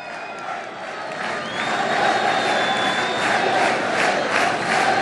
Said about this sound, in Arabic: بكل تأكيد يستحق هذا الرجل هذه التحية من الجماهير الوفية في هذه الأثناء وفي حفل التتويج